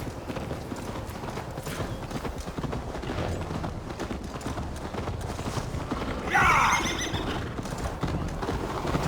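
Steady hoofbeats of a horse galloping in Assassin's Creed Valhalla over a busy game soundtrack, with a sharp whinny bursting out partway through.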